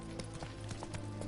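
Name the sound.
horse galloping in The Witcher 3 video game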